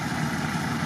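A Lada Niva's engine idles on an off-road route, a steady low rumble with an even, unbroken drone, close and fairly loud, with no voices over it.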